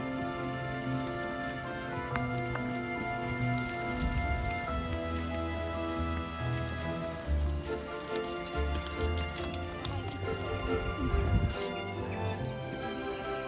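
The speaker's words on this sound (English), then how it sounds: "Never easy leading 6 miniature donkeys at once." Six miniature donkeys are led along together, their hooves giving a soft, irregular clip-clop over steady background noise, with a few louder thuds nearby.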